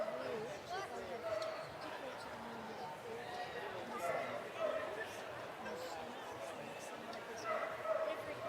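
A miniature wire-haired dachshund barks and yips at a dog show, short sharp barks scattered over a steady crowd murmur and talk in the arena.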